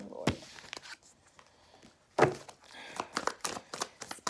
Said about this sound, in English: I did already pre-shuffle, but I'll shuffle again just so you all can feel the energy.